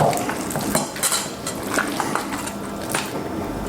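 Yogurt tzatziki being stirred with salt and red wine vinegar in a bowl, a loud, close run of wet squelching and spoon scrapes and clinks against the bowl, with no talk.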